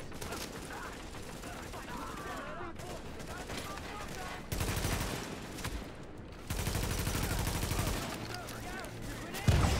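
Rapid automatic gunfire and bursts of shooting from the co-op video game The Division rattle continuously through the clip, dense and fairly loud, with game sounds layered around the shots.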